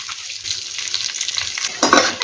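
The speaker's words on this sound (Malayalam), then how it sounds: "ഇതിങ്ങനെ ഒന്ന് ഇളക്കി യോജിപ്പിക്കാം" Stirring washed rice in a pot for chicken biryani: a wet scraping and shuffling of grains, steady and close, growing a little louder toward the end.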